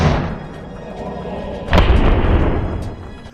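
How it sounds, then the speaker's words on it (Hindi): Mortar shells fired at IDF posts in al-Shujaiya camp, Gaza: a deep heavy boom strikes midway and rolls out over a lingering rumble, after an earlier fading low blast, loud and close with no talking. "उसके लड़ाकों ने अल शुजैया कैंप में आईडीएफ की चौकियों पर ताबड़तोड़ तरीके से मोर्टर गोलों से फायरिंग की है"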